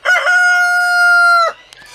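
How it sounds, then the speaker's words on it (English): A young rooster, about two months old, crows once, loud and close: a long, steady, strongly harmonic call lasting about a second and a half that cuts off sharply, followed by quiet. "that's a good crow"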